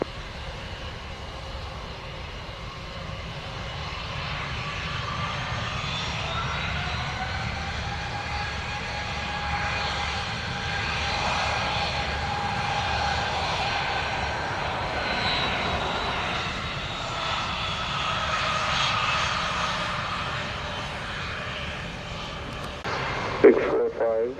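Jet airliner engines at Montego Bay airport spool up and roar steadily for a departure from the runway, a loud sustained whine and rumble that builds and holds, with voices heard partway through.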